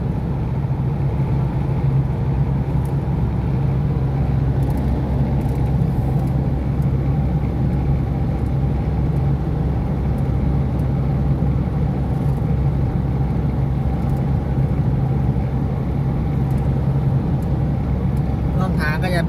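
A car drives along a clear, open road in Thailand, its engine and tyre noise forming a steady, continuous rumble throughout with no pauses.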